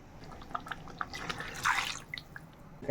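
Water trickles and drips into a pot of simmering mutton curry, soft splashes and bubbling close by, fairly quiet with a slightly louder pour midway.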